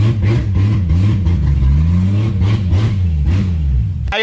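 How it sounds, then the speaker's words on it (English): A Toyota Supra's turbocharged engine with no wastegate, fitted with an eBay turbo and a large exhaust leak, revs hard and loud, its raw unrestricted exhaust note rising and falling in a continuous rough roar. "How you like that no wastegate sound, huh?"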